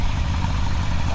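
A Honda Nighthawk CB750 motorcycle engine runs steadily at low revs with the clutch partly engaged, a close, continuous low rumble with no talk.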